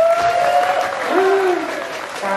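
Brief burst of audience clapping at a police visit to an Islamic boarding school in Purbalingga, steady applause with voices and a tonal whistle-like sound over it.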